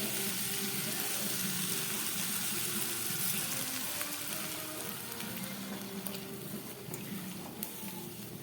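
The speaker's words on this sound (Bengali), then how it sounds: "এবার আমি দিয়ে দিচ্ছি জল।" Water goes into peas frying in a pan for ghugni, a loud close sizzle with a steady watery rush that eases slightly as it goes on.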